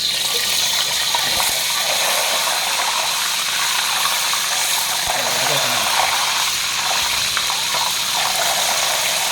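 Crispy pork belly frying in a pan of hot oil, a steady broadband sizzle with scattered pops and splatters throughout, close and fairly loud, with someone talking briefly over it.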